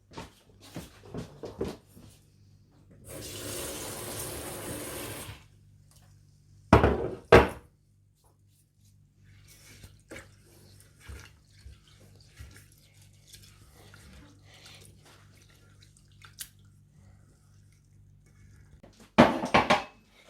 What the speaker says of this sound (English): Right now I'm going to wash the dal.